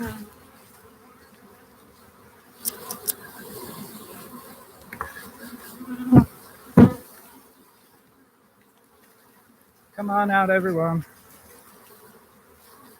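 About 10,000 honeybees buzz in a low drone throughout while being installed from a package box into a hive, with a few loud close passes and a burst of buzzing near the end; a person speaks briefly.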